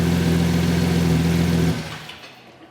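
A 1JZGTE-swapped LJ Holden Torana idles through its mufflers with a loud, close, rumbling burble that holds steady, then cuts out, the sound fading away in the final second.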